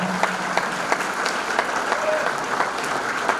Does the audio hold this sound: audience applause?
yes